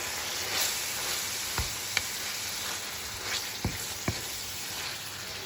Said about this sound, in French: le temps que ma viande elle mijote tranquille